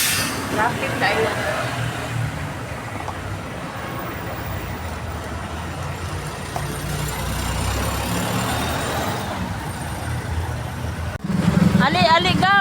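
Road traffic heard from inside a vehicle: a continuous low engine and road rumble throughout, with children's voices and chatter breaking in near the end.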